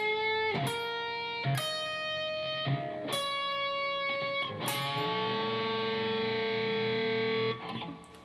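Slow run of distorted electric guitar double-stop bends from a lick, several picked pairs with bent notes swelling up, ending on a long sustained ringing bend, close and alone without talk.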